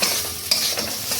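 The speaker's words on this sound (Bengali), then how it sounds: "এবার আলু দিয়ে একটু ভালো করে নাড়াচাড়া করতে হবে।" Potatoes with coconut, salt and turmeric fry in a pan while being stirred, a close, dense sizzle broken by a single sharp scrape, heard alone in a short burst.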